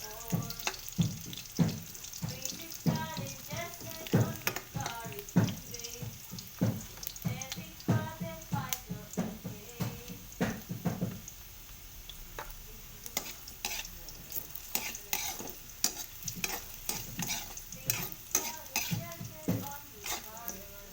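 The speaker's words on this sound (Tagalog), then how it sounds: "Medyo mapula-pula na yung bawang at saka yung luya. Saka natin ilagay yung sibuyas." Garlic and ginger sizzle in a pan as onion goes in, with frequent sharp scrapes and taps of a utensil stirring over a crackling fry, close by, with some faint running water in the background.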